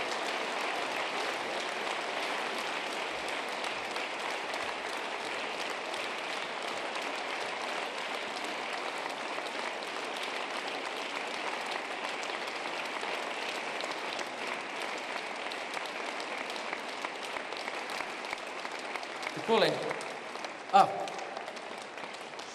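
Sustained audience applause for the Upper Savinja Valley athlete of the year 2017, a sport shooter, holding as a steady clapping wash for over twenty seconds, with a voice briefly rising over it near the end.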